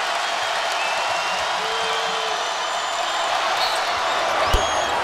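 Crowd at a 2013 NIT college basketball game between USM and BYU, cheering after a three-pointer as a loud, sustained roar that fills the whole space, with a commentator talking over it.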